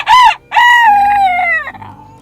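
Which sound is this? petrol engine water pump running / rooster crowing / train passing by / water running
rooster crowing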